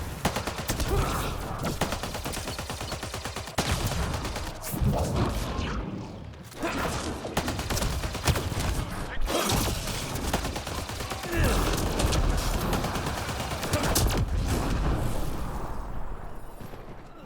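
Near-constant combat gunfire in the sci-fi shooter Mass Effect Andromeda: loud, overlapping bursts and impacts with a few short breaks, plus occasional speech mixed in.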